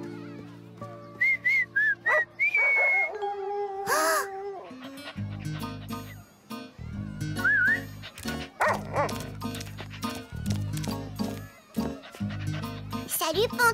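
Short rising whistles from a person, several in a row, mixed with dog barks and yips, cartoon music and talking voices in the French-dubbed cartoon Caillou.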